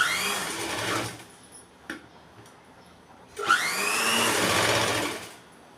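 A sewing machine stitches a sleeve onto a boat neck kurti, two loud sustained runs of whirring needle action with a short pause and a brief clunk between them.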